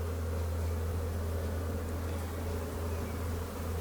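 A honeybee colony hums in a hive opened for a March inspection, a dense, steady buzz close by that holds evenly throughout with no one talking.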